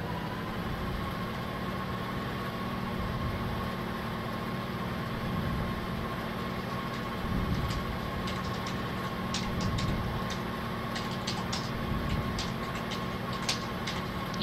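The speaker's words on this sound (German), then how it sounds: "der LKW ist ganz schön laut." A truck engine in the video game DayZ idles steadily throughout, a constant low rumble with a faint hum, loud and continuous with slight swells and no talking.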